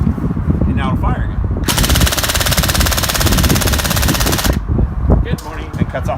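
A KWA Ronin airsoft rifle fires one continuous full-auto burst of about three seconds, a loud, dense buzzing rattle. Quieter handling noise and wind come before and after it.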